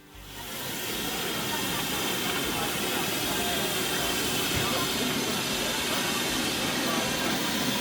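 A steady, loud hiss of escaping steam with a low mechanical rumble beneath, continuous from start to finish like an idling locomotive.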